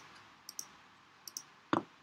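Computer keyboard keys clicking on a notebook, a few quiet, sharp taps in pairs followed by one louder key press near the end.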